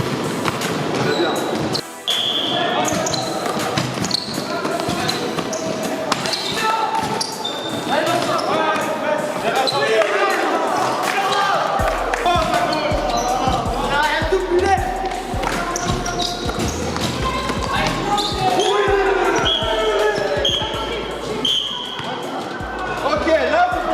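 Many basketballs bounce on a gym floor in a dense, irregular patter during a dribbling drill, going on steadily throughout while a coach and players talk over them.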